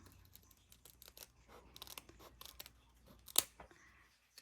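Scissors cutting paper for woodblock garland letters, a series of quiet, close snips in an irregular rhythm, with one sharper click near the end and no talking.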